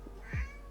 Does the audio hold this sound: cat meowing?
yes